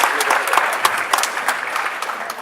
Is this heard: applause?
yes